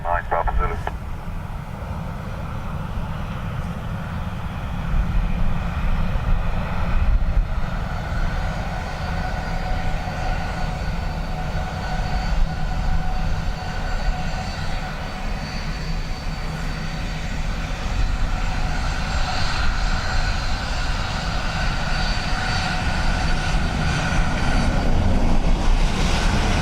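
A Ryanair airliner lands on runway 28 left at Dublin Airport in a gusty crosswind, a loud, steady engine roar that swells slightly toward the end, with radio voices mixed into the noise.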